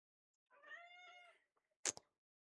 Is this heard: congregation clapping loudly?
no